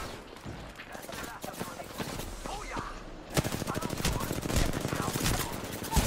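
Rapid gunfire in the video game Apex Legends, bursts of automatic shots that grow louder and denser partway through, with a player talking over them.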